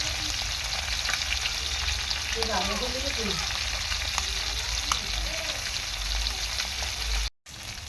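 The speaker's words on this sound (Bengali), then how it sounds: "তো একটুখানি কড়া করেই মাছটা আমি ভেজে নেব" Small bele fish (tank goby) frying crisply in hot oil, a steady loud sizzle that fills the whole stretch with a brief dropout near the end.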